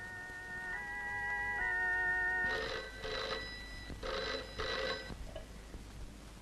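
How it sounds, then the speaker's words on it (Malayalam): A telephone rings in short repeated bursts, two double rings after an earlier tone, fairly close and clear with no talking. "ഒന്ന് ഫോൺ ചെയ്ത് നോക്കിയാലോ?"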